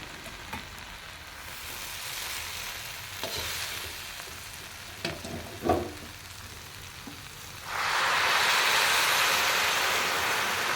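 Rajma curry frying and cooking in a pan, heard as a steady low sizzle with scattered stirring knocks, swelling into a loud, dense hiss of frying near the end.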